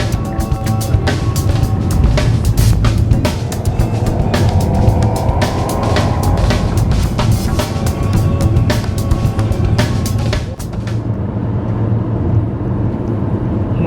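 A car drives along a potholed road in Minas Gerais with a constant loud rumble. Frequent sharp knocks and jolts come through from the rough surface before the noise eases slightly near the end.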